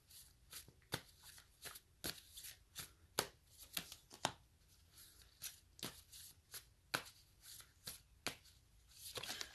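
A deck of reading cards being shuffled by hand, quick repeated riffling snaps and soft slaps in an uneven rhythm, close and clear, with no voices over it.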